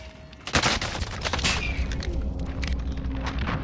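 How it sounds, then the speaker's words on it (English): Heavy gunfire in Warzone, a loud blast at the start followed by a dense run of sharp, overlapping shots and booms that keeps rumbling for the rest of the moment, with no talk over it. "use the shotgun"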